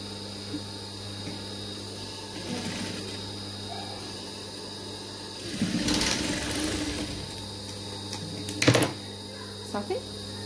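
A sewing machine stitching fabric for a simple butterfly craft makes a faint, steady mechanical hum, with a louder burst of stitching near the middle and another brief one toward the end, while a voice talks at times.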